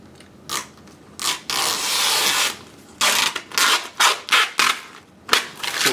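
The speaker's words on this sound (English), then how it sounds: "Right, so now we can actually remove the excess film." Vinyl wrap film is peeled away from a vehicle's surface in several bursts of loud, close tearing and crackling, with short pauses between each pull and no talking.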